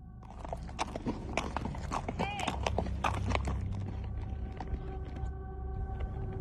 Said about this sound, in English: a clip of a rancher's horse bolting at a disembodied voice